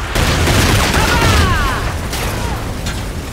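Gunfire in the Call of Duty Infinite Warfare game: loud, dense, continuous weapon fire with mechanical clatter and booms, steady throughout and up close, with faint whistling sweeps in the middle.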